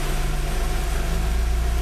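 The engine of a Fiat Uno 1.0 8v Fire idles steadily in a mechanic's workshop, a close, loud, even low throb with a regular pulsing rhythm and no voices.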